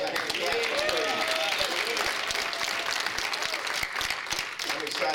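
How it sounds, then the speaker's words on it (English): Steady applause from a church revival congregation, dense hand clapping at full strength throughout with a few voices mixed in. "why don't we give Jesus a hand clap of"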